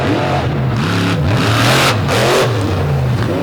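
A monster truck engine roars at the start of an all-star championship finals run, revving hard with rising and falling pitch, loud and close throughout.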